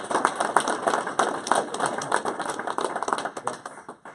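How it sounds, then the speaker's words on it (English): Applause from a modest audience at a tech meetup on public data, scattered individual claps forming a light, uneven patter that thins out toward the end, no voices over it. "Let's give him a round of applause."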